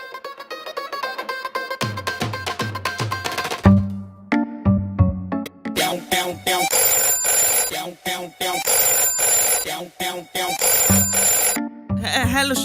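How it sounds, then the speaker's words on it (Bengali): A telephone ringtone rings out loudly as a call is placed, a melodic electronic ring pattern repeating in bursts with brief gaps, alone without talk. "সাহেবকে একটা ফোন করি।"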